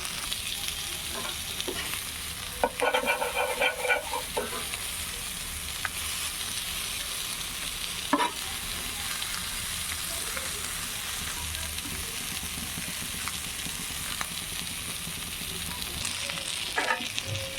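Shrimp frying in a pan as each piece is flipped over, continuous loud sizzle with occasional clinks and scraping bursts from turning, no talking.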